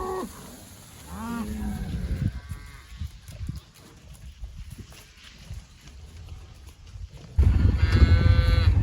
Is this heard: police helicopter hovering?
no